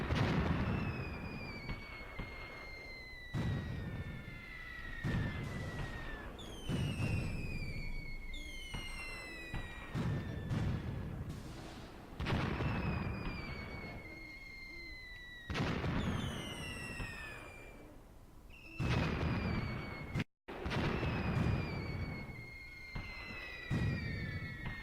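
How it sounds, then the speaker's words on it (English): Mortar spotting rounds in the Graviteam Tactics war game fire and land in repeated booming thuds, each trailed by descending whistles, spaced every couple of seconds and heard alone at a moderate distance. "And here come my mortar spotting rounds."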